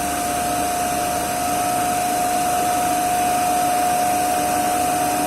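A three-phase alternator set under load test runs steadily at 1500 RPM, giving a loud, constant mechanical hum with a sharp steady electrical whine, unbroken and without speech throughout.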